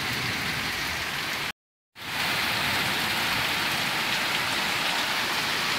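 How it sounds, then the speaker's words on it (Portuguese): Heavy rain pours on a rural farm in a dense, unbroken roar of drops, cut by a short gap of silence before the downpour resumes at full strength. "a chuva não para, ao contrário, tá só aumentando"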